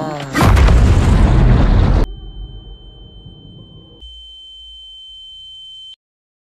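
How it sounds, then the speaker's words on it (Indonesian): A bomb explodes in front of Batman in a film scene. A loud, broad blast roars for about two seconds, then cuts to a fading rumble and a steady high ringing tone that stops abruptly. "bom pun meledak tepat di hadapan Batman"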